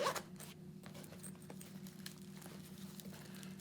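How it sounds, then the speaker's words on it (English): A zipper on RS Taichi GMX Arrow leather motorcycle pants being worked, a short close rasp at the start followed by quieter rustling over a low steady hum. "Entry and exit, you've got a zip up here."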